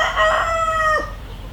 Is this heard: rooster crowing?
yes